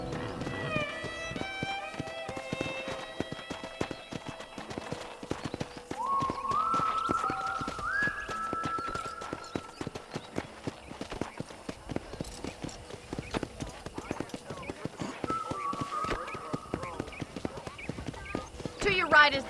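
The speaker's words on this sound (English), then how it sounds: "let's see if you can still ride a horse" Horse hooves clip-clopping at a steady ride in Red Dead Redemption on a ranch, continuous rhythmic hoofbeats throughout with someone talking over them and brief whistled music tones in the background.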